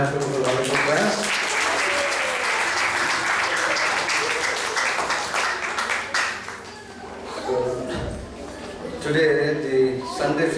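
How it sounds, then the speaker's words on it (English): Temple congregation at a Sunday class in an Atlanta ISKCON temple applauds the class speaker; sustained clapping carries on, with voices and chanting-like tones rising beneath and after it. "Let's give a round of applause for Goparaj for a wonderful class"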